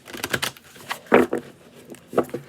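Tarot cards are shuffled in short, crisp bursts of riffling and tapping, close by, with brief pauses between.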